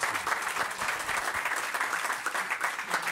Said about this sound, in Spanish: Un aplausito para Juan